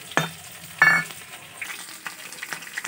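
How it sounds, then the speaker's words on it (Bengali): Potatoes and taro frying in a pan for a rohu fish curry, with a few short sizzling bursts and scraping stirs over a quiet crackle, no talking. "আলু আর গাটি কচু ভাজা হয়ে গেছে"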